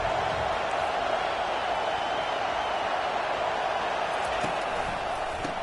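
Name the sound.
stadium crowd at football game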